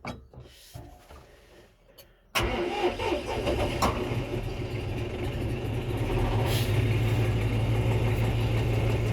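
After a few quiet, scattered knocks, a tractor engine on a muddy construction site abruptly cranks and catches, then settles into a loud, steady running rumble close by.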